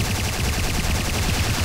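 Rapid automatic gunfire in a Command & Conquer Renegade multiplayer match, a dense, steady stream of shots over constant game noise throughout, loud and close, with no speech.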